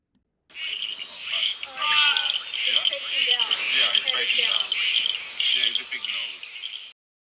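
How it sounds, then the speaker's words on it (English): Frogs and crickets call at night by a small pond in Costa Rica, a dense steady chorus of high trilling and chirping, close and fairly loud, starting and stopping abruptly. "You can hear by the recording I made how active all the frogs were having a lot of fun that night down by the little pond"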